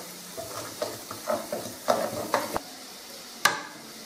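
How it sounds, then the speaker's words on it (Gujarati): Garlic chutney being stirred and roasted in hot oil, with soft scraping strokes of a spoon across the pan and a light sizzle underneath, ending in one sharp clank. "1 મિનિટ માટે ચટણીને આ રીતે હલાવતા જઈ અને શેકીશું।"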